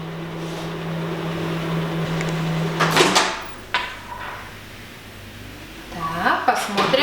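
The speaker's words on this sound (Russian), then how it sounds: "Отправляем в микроволновку на пару минут." A steady low microwave oven hum runs for about three seconds, then its door clunks open and is handled with clicks and rattles.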